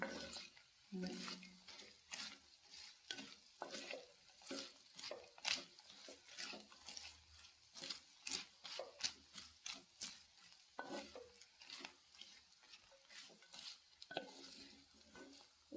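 Pappadam thoran being stirred in a frying pan: a spoon scrapes and clacks in a steady, repeated rhythm over a soft sizzle, close and fairly loud, with no talking.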